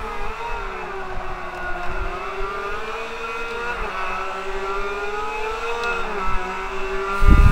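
A race car in Forza Motorsport 5 holds a loud, close engine drone at high revs, its pitch wavering as it climbs through the gears, with a low thump at the end.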